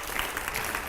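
Studio audience applause on a Hindi TV news interview set, a steady mass of clapping filling a short burst, fairly loud and without speech over it.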